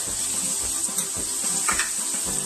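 Vegetables for a carrot and coconut curry sizzle steadily in a hot pan, a continuous close frying hiss with a few soft stirring scrapes and clinks, no voices.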